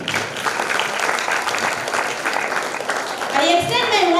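An audience at a school graduation celebration for Class X and XII gives a steady round of applause that fills the hall. A voice speaks over the clapping near the end.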